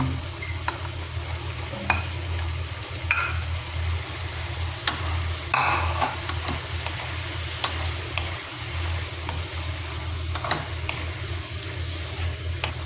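Shrimp and mushrooms sizzle in a pan, a steady, close frying hiss with occasional stirring clatters and scrapes throughout.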